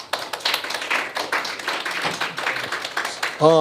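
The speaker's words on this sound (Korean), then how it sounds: "계속 이렇게 전진하시는 우리 경철 선생님한테 박수 한번 치겠습니다" A small audience at a lecture on drug problems claps for a teacher, fairly sparse claps with distinct individual hits, ending as a voice starts speaking.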